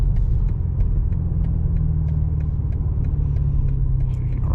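A 2026 BMW M5 with a 727 hp V8 drives on the German Autobahn, its engine a steady, loud low rumble with constant road roar throughout, no talking.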